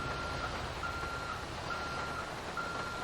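A tow truck reversing in the GTA 5 video game gives a steady series of evenly spaced electronic beeps over a constant wash of rain and engine noise.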